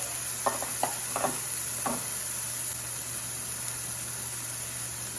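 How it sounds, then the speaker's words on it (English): Mushrooms, onions and steak frying on a Blackstone griddle: a steady background sizzle with a few quick spatula scrapes and taps early on, then continuous even frying hiss. "blend these mushrooms and onions in with the meat so I can get all those flavors infused"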